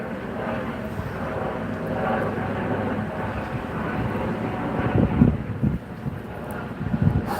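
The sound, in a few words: wind blowing during a bike ride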